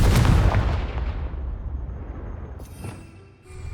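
Explosive Confringo spell blasting in the Hogwarts Legacy video game, a loud booming burst at the start that rolls off into a long rumbling decay, with faint crackling debris near the end.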